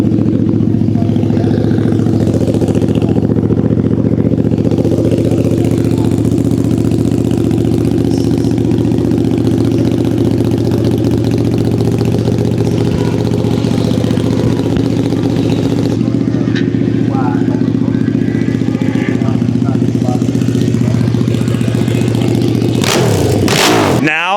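A KTM RC1390R prototype motorcycle engine running loud and close, a steady throbbing idle with occasional blips of revving, ending in a sharp rising rev.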